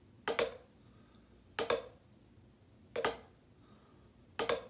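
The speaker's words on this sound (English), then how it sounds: "both sticks hitting at the same time." Two drumsticks hitting together as a flat, poorly played flam, repeated four times at an even pace, sharp short clicks with quiet gaps between, heard alone.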